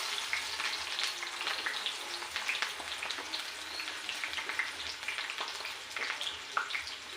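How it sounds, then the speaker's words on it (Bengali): Chopped onion hits hot oil in a pan for a homemade desi chicken curry, giving a soft, steady crackling sizzle with scattered pops, fairly quiet and close, with no voices. "প্রথমে পেঁয়াজ কুচি দিয়ে দিলাম"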